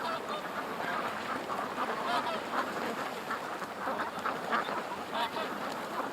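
Ducks out on a morning swim quack and honk steadily at a distance, their calls blending into a continuous, noisy outdoor wash with a faint hint of a voice.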